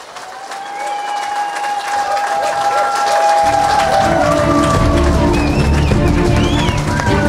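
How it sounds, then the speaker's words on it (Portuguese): An audience at a political rally presenting a candidate list for the Quinta Grande parish in Câmara de Lobos, Portugal, breaks into loud applause midway, the clapping swelling and holding over tonal music. "Mais um forte aplauso a Mano Silva."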